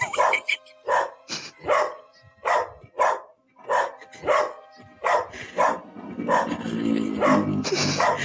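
A dog barks repeatedly in a steady series of sharp, close, loud barks, and a swell of noisy background sound builds toward the end.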